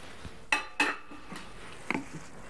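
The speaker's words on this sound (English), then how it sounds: "And then into this goes the edamame." Edamame tipped into a pan of kung pao sauce gives a few sharp clatters and knocks of pot and utensil, two close strong hits near the start and another bump later, with no steady sizzle.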